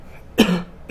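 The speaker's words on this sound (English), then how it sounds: "Sorry for the coughing." A single sharp cough bursts out close to the mic, loud and brief, then tails off into quiet room tone.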